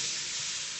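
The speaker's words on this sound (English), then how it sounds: "Oh yeah, listen to that sizzle." London broil steak sizzling on the hot bare grates of a Weber Genesis gas grill, a steady bright hiss of searing meat, close and constant, no voices.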